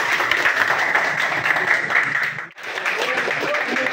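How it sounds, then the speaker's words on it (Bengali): A batch of students at a Teacher's Day celebration gives a dense, steady round of applause that dips briefly near the end and then resumes. "গোটা ব্যাচের জন্য একটা হাততালি।"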